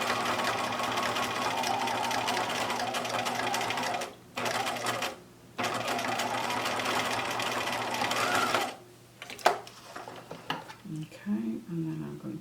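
A home sewing machine stitches a fabric face mask in two long, steady whirring runs separated by a short pause, followed by quieter handling sounds and soft talk.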